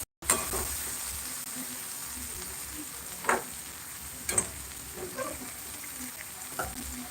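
Stuffed ridge gourd (dodka) fries in a pan with a soft, even sizzle throughout, quiet and close, with a few brief clinks and stirring scrapes scattered through it and no voices.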